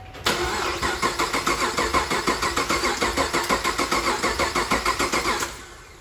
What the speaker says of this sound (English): We're gonna turn it over to get new, oil to the top of the engine